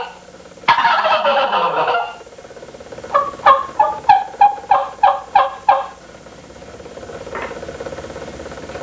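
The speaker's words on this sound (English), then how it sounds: "We don't think there's anything that gobbles quite like this." A handheld tube turkey call played from Morgan's Turkey Callers, giving a burst of raspy yelping followed by a rapid run of about eight loud, close gobble-like rattling notes, then a faint trailing call, with no talking.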